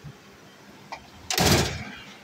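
A heavy drawer on a US General 56-inch tool box slides open with a loud, brief rumbling roll lasting about a second, preceded by a faint click, recorded close up with no talking.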